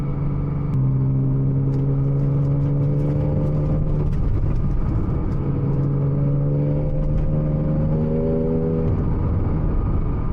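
A 700 hp Porsche Cayman 987 Turbo, fitted with an 82 mm throttle body, accelerating on a night drive, its engine note climbing steadily through rising gears, then dropping and climbing again, heard as a loud, continuous cabin drone with no talk.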